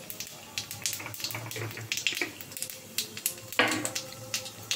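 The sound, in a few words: nigella seeds (black cumin) tempering in hot oil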